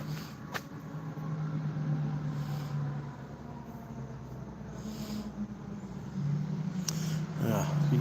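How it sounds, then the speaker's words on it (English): A propane truck rumbles by outdoors, a low steady engine drone that swells and fades across several seconds, heard under background noise with a brief clatter near the end. "Yeah, you can hear a propane truck."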